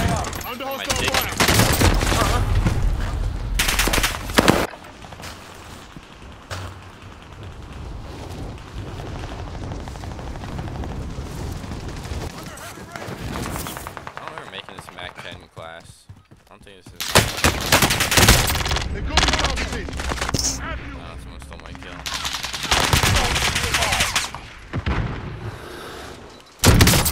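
Gunfire in a battle royale video game: repeated bursts of automatic fire and single shots come in loud clusters, with quieter stretches of game ambience and in-game voice callouts between them.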